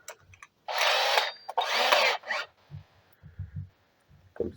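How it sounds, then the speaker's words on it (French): A power drill spinning a split rod with a piece of sandpaper inside, two loud whirring bursts close up, each about a second long, followed by quieter knocks and handling sounds. "Et je vais venir avec la perceuse"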